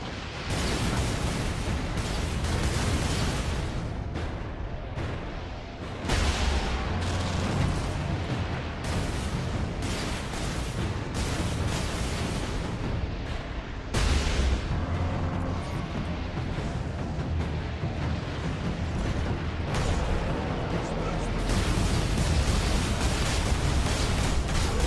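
Las cannon in a Warhammer 40k video game firing repeatedly, loud booming blasts and crackling bursts one after another, near and dense, with battle noise filling the gaps.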